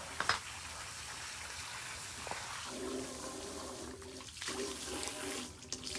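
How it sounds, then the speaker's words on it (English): Water sprays and splashes in uneven bursts against a surface, hissing and gushing at close range with brief pauses between sprays. "I'm just going to use my regular water and spray these down"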